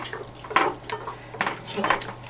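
Currant jelly bubbles and cooks in a pot, with soft irregular pops, spits and occasional light clinks of metal, fairly quiet and close with no speech.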